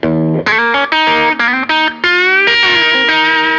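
Electric guitar on its mini humbucker pickup, giving a twangy rock tone with effects and distortion, plays a loud, close run of ringing chords and notes broken by short gaps, with no talking.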